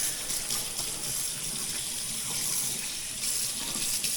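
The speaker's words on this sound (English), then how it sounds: "Don't tell the missus I'm washing my hands in the sink." Water runs steadily from a sink tap while hands are washed after a jet ski oil change, a continuous close hissing flow with no talking.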